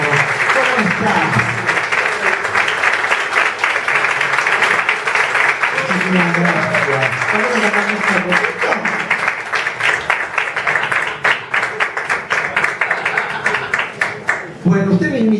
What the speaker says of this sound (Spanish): Con todos ustedes, y fuerte el aplauso para recibirlo a él, al señor Guillermo Kim.